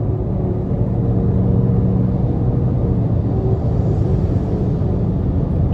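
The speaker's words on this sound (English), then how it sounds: "we're going to give it a little throttle here" A 2020 Honda CR-V EX-L's engine hums as throttle is applied on the road, a steady, loud, low rumble from inside the cabin that holds evenly with a slight rise in pitch, with no talking.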